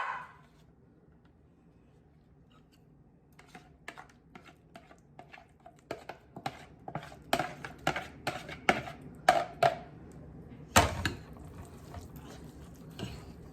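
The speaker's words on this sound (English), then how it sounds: "So now I'm just going to mix this vegetable mixture into the London broil" Vegetable mixture being stirred into London broil for homemade dog food, a series of wet, irregular scraping and clacking knocks of a utensil in a bowl, quiet at first and growing busier and louder.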